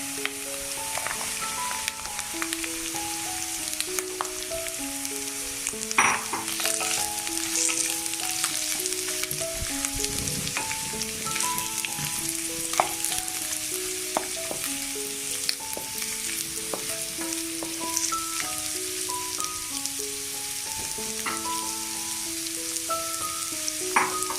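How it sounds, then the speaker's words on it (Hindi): Half a kilo of onions fry with bitter gourd peels in a pan, a steady loud sizzle with occasional stirring scrapes, while stepped melodic background music plays throughout. "अब मैं इसके अंदर प्याज शामिल कर दूँगी। प्याज डालूंगी इसके अंदर आधा किलो।"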